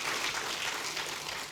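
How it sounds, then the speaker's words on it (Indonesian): A church congregation applauds during a worship service, a dense, steady wash of clapping that sounds broad and fills the room, then eases slightly at the end. "Ayo kita tepuk tangan meriah buat Tuhan kita."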